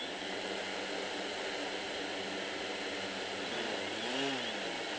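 Small drone's motors revved at full throttle with a nearly dead battery, giving a steady high-pitched whine that holds close and loud throughout, with a brief rising swell near the end.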